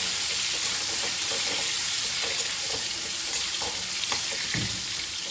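Pointed gourd (potol) pieces fry in hot oil in a pan, giving a steady, close sizzle and crackle with occasional stirring scrapes and pops throughout, no voices.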